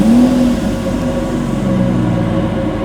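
A car engine catches and revs in a steady mid-pitched drone, with a brief rising tone at the start, loud and close throughout with no talk.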